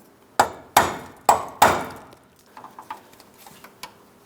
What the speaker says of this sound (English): I'm going to continue on with a hammer and punch down along the bottom of this